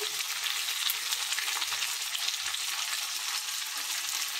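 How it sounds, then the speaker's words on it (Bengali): Steady, dense sizzling of cauliflower frying in a pan with chopped ginger and chilli, a continuous crackling hiss with occasional faint stirring clicks, no voices. "কপিগুলোকে লাল লাল করে ভাজা যাবে"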